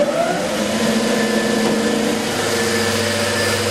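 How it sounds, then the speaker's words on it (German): A long belt sander runs steadily at close range while grinding a part for a glass-tube holder, giving a continuous motor whine with a smooth abrasive hiss and a steady hum throughout. "Ich weiß, dass meine Langbandschleifmaschine schon funktioniert."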